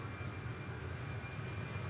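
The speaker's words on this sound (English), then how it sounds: "Boeing 767 heading to Albuquerque," Steady, distant rumble of a Boeing 767 airliner, a 25-year-old aircraft first flown in 1997, passing near an airport in Louisville, Kentucky; a continuous low broadband roar without talk.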